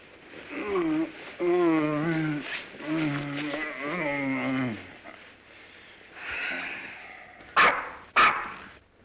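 A man imitates a dog with a string of barks and growling yaps, close and loud, followed by two sharp bursts of noise near the end.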